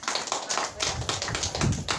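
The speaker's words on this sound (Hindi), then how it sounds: "ताली बजाओ" An audience claps hands at a spoken talk, a quick run of sharp, close claps merging into a brief burst of applause with no voices.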